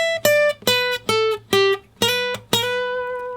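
An electric blues guitar lick in a triplet style: six clearly picked notes, some held and bent with wide vibrato, the last ringing out, loud and close with no voices.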